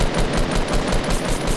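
Gunfire in the video game Fortnite, a continuous dense burst of rapid shots rattling loudly and close throughout, with no pauses.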